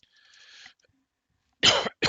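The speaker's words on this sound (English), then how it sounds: "excuse me for coughing there in the mic" Two sharp coughs close to the microphone, following a brief faint whistling tone and a moment of silence.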